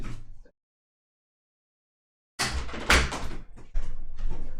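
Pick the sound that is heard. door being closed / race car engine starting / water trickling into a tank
door being closed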